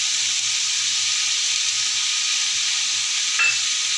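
Spices, salt, turmeric, garam masala and gram flour mixture fry in a pan on low heat with a steady hiss, while a utensil stirs and scrapes in a soft repeated rhythm.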